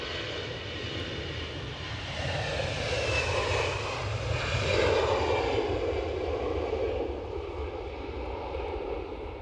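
An EasyJet airliner at Edinburgh airport roars steadily nearby, the engine noise swelling toward the middle and easing slightly at the end, with whining tones gliding beneath the broad rumble.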